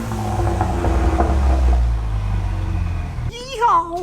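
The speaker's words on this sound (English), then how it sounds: "I've never minded, I guess, the sound from my Ecoboost" A tuned Ford Mustang EcoBoost four-cylinder runs with a loud, steady engine and exhaust rumble for about three seconds, then cuts off as a voice calls out excitedly.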